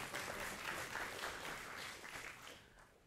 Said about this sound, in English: Let's give Jody a round of applause.